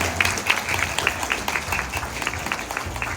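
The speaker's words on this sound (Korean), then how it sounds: "여러분 다시 한 번 더 아낌없는 축하의 박수를 큰 박수로 네, 보내주신 감사드리겠습니다" A crowd at a Korean award ceremony for World Water Day applauds steadily, the dense clapping held at an even level throughout, without breaks.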